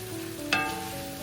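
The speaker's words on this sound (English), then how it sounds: "In the same wok, add 1 tablespoon of oil and add the marinated beef." Marinated beef searing in hot oil in a wok gives a steady, close sizzle that flares into a brief louder crackle midway, then settles back to an even hiss.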